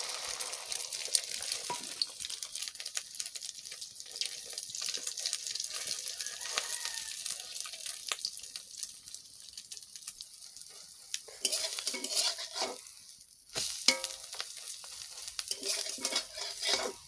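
Beaten egg and onion fry in hot oil beside a pot of simmering dal in a home kitchen, a continuous close sizzle and crackle with stirring scrapes, surging louder near the end.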